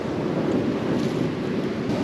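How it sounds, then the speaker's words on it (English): Strong wind buffets the microphone over a steady roar of large waves crashing on a beach in Santorini, loud and continuous with no talking. "The waves are huge and like really like windy."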